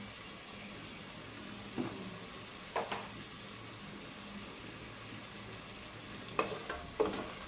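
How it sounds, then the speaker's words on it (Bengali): Spice masala for a mutton and drumstick curry fries in a pot with a low steady sizzle, punctuated by a handful of scraping stirs against the pan, quiet and without speech. "মশলাটা ভালো করে নাইরা কষায় নিতে হবে"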